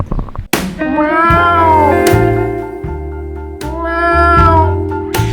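A cat meows loudly and close up in several long, drawn-out, wavering cries that follow one another with brief gaps.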